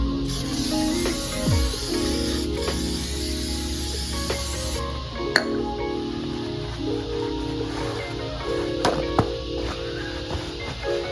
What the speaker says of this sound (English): All right, I'll spray a little more.